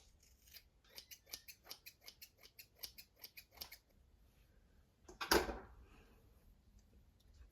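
Scissors snip through hair in a quick run of about a dozen crisp, close cuts, then a short pause and a louder handling rustle; no voices.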